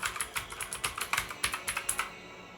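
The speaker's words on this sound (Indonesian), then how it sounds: "sekarang saya coba ketik dengan keyboard mechanical" Rapid typing on a mechanical keyboard, a quick run of crisp clicky keystrokes close up, steady then stopping abruptly near the end; no talking.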